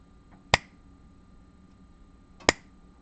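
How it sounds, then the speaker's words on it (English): Two crisp finger snaps about two seconds apart, close and loud against a quiet room hum, made for a sound sensor demonstration. "snap my fingers"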